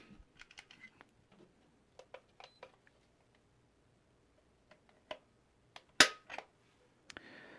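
A Springfield Hellcat pistol's trigger is pulled on a quiet bench, giving a few sharp, sparse clicks and small mechanical taps, with one louder crisp snap near the end.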